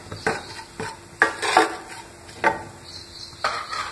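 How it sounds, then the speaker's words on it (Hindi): Masala for stuffed pointed gourd (parval) fries in a pan as a utensil stirs it, producing a soft sizzle under irregular scraping and clinking strokes against the pan, close and unaccompanied by talk. "नमक, सभी को भून लें अच्छे से।"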